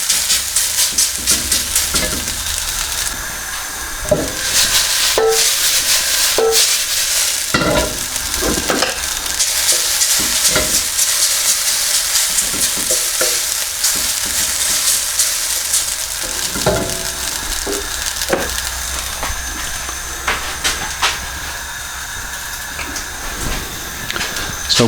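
Drained noodles stir-frying in a wok for vegetable chow mein, a steady loud sizzle broken by repeated clanks and scrapes of the utensil against the pan, with no talking.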